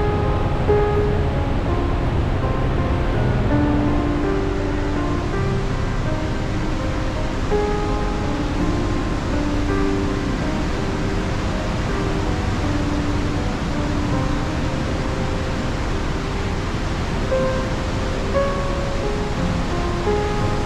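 Trümmelbach waterfall in Switzerland thunders inside the mountain, a loud steady broadband roar of crashing water that fills the whole stretch without pause, echoing within the rock.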